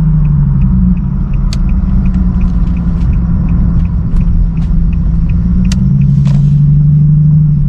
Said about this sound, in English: Listen to the shifts. Look how quick that shift was.